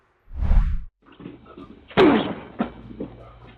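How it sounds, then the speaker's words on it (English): A man on security camera footage throws his shoulder against a door, and the impact lands as a heavy slam followed by a thud and rattling knocks. Earlier there is a brief muffled noise, and the whole sequence is moderately loud and close. "slamming his shoulder against the door as if trying to break in"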